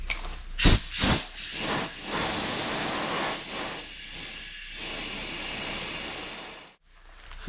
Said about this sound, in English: There's the airline to cool it down quickly.